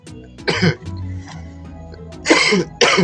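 Three short, dry coughs from a man with a cold, close and loud. One comes early, then a pair near the end, with quiet murmuring between them.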